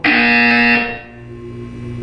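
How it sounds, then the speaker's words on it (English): Portal 2 game buzzer, one loud, harsh electronic tone that holds for under a second and then cuts away to a low hum with a fainter lingering tone. "When you hear the buzzer, look down at the floor."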